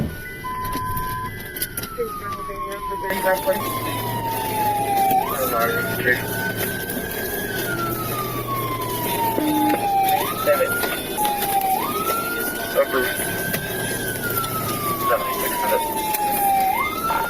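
A wailing police siren rises and falls in long slow sweeps during a high-speed chase, fairly loud over a steady rumble of road traffic.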